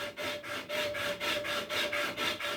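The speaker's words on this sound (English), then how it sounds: "And now I'm going to try to sand this side just a little bit." Sandpaper rubbed back and forth over a wooden rocking chair part, a steady run of about nine close, even strokes with a rhythmic rasp and no talking.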